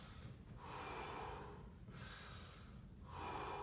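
A teacher demonstrates a deep 360 breath, with three long, close inhales and exhales that rise and fall in slow, audible rushes of air, alone without talk.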